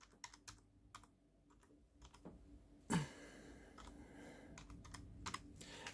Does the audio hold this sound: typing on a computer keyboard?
yes